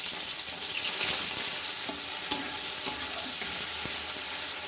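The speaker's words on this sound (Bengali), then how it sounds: "আমার মা বটবড়িগুলোকে সব ভাজা স্টার্ট করে দিচ্ছে" Lentil dumplings (bori) fry in hot mustard oil with a steady close sizzle, broken by occasional sharp pops and the scrape of stirring, and no voices.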